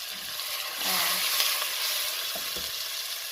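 Steady loud sizzling of onions and cumin seeds sauteing in a hot pan for chana masala, with occasional soft clinks of a utensil stirring.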